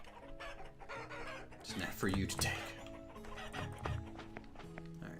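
Chickens clucking in the survival video game Vintage Story during primitive farming, several short clucks and fowl calls under game music and ambient sound, with someone speaking briefly over them.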